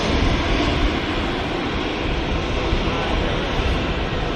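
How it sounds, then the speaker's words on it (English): A Ryanair Boeing 737-800 lands at Manchester Airport, filling the air with a dense, rushing engine roar at a constant loudness for a few seconds. "Ryanair 737 next to land, 800 series"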